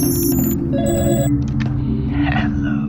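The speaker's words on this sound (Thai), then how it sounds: "เสียงโทรศัพท์" An in-game telephone in Garry's Mod rings with loud electronic tones over a dense, constant game soundscape.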